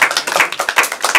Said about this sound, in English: Let's give the Lord one more hand clap of praise today.